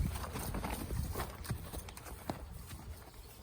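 A horse's hooves clip-clop unevenly on the ground nearby, quiet and close, with a faint background murmur.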